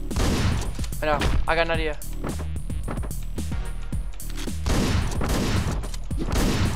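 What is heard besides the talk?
gunfire in the video game Hotline Miami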